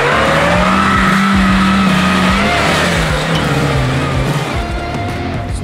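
A Toyota Land Cruiser Prado 120 engine revs hard as its wheels spin and skid, a loud continuous whine and squeal with gravelly grinding underneath.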